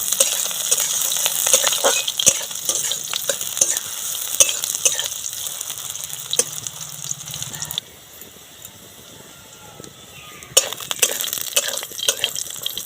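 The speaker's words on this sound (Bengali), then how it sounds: "তেল গরম হয়ে গেছে তেলের মধ্যে সয়াবিন বড়িগুলো দিয়ে দিলাম" Drained soya chunks sizzle and crackle steadily in hot mustard oil, with occasional stirring clinks; the frying quiets briefly midway before picking up again.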